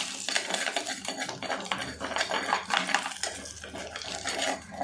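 A utensil scrapes and clatters against a pan as fenugreek and curry leaves are stirred for fish curry, in a steady rhythm of close metallic scraping.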